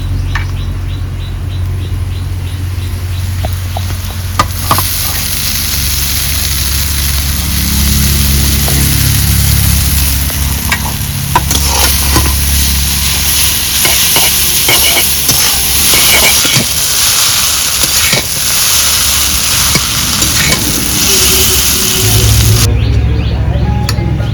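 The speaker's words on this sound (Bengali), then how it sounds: "পেঁয়াজ লঙ্কা ভাজা হয়ে গেছে এবার ঢেলে দেবো চাউমিন" Chowmein noodles tossed and frying in a pan with already-fried onion and chili, a steady loud sizzle with scraping stirs and clattering throughout, no talk.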